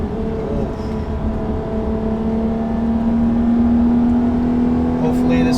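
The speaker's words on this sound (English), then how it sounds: "let's get this little heel toe, or not heel toe, rev match." A Honda Accord V6 with an aggressive aftermarket exhaust, heard from inside the cabin, holds a steady droning engine note that climbs gradually in pitch and loudness toward a rev-match blip, loud and continuous.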